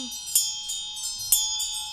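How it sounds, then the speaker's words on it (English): Hand bell used in Chod practice, struck in a steady repeated rhythm of bright metallic rings with a clacker, each strike ringing on over the next, close and clear with no talk over it. "So it should only be clacking on the back of the bell."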